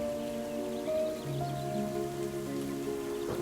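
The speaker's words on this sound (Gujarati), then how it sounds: "સરજુ વરસાદના ટીપા પડતા જોઈને તરત તળાવમાં પહોંચી જાય છે" Rain falls in an animated children's moral story about a duck and a crow, a soft steady patter heard behind sustained musical tones, with no voices.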